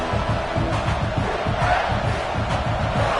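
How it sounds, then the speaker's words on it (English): Football stadium crowd roaring steadily and loudly throughout, a dense wall of cheering and yelling with no break. "this crowd is turning it up a notch"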